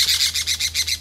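A pet parrot squawks and chirps in a rapid series of about eight harsh, bright calls, close and fairly loud, over a low steady hum in a home kitchen.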